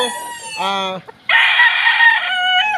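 A pure broodstag gamefowl crows loudly and close by in a short burst of harmonic calls, with a brief pause mid-crow before a strong sustained final note.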